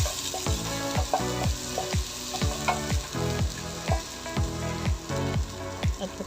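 Sliced hotdog fries in a pan for chicken liver menudo, a steady close sizzle broken by about nine rhythmic scraping stirs of a utensil against the pan.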